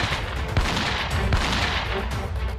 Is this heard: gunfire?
yes